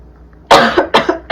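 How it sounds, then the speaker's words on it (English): Three raspy coughs from a person recovering from a cold, close and loud, coming in quick succession after a moment of quiet. "I'm probably gonna be coughing a lot"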